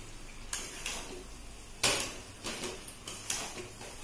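Dry chicken with garam masala frying in a pan, with quiet sizzling under several sharp clinks and scrapes of a spoon stirring against the pan.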